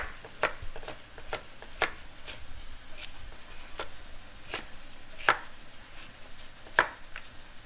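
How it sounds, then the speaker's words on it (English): A knife roughly chops vegetables on a cutting board for a Provence-style braised chicken, giving irregular sharp knocks, some louder than others, close and clear with no talking. "All right, rough chop."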